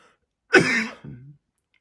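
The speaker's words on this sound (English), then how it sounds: "A lot of coughing going on." A single sharp cough followed by a shorter, lower second cough, close to the microphone, then silence.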